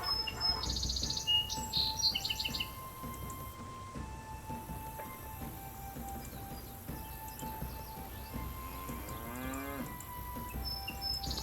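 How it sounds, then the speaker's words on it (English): Cows mooing in the Nancy Drew: Secret of Shadow Ranch video game, a distant low moo rising from a quiet ranch ambience with bird chirps and faint game sound effects. "I hear cows, but I haven't actually seen cows."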